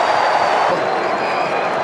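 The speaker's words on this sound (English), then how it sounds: "Crowd loving that." Football crowd in a stadium roaring steadily after a tackle, a loud dense wall of cheering that stays constant throughout with a faint voice mixed in.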